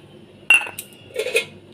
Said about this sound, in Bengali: চিনিটা দিয়ে ভালো করে আবার আমি নাড়িয়ে রাখছি